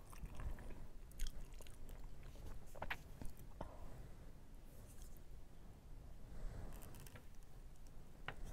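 Close, quiet chewing of mango and sticky rice, with soft wet bites and squishy mastication repeating steadily in a hushed setting.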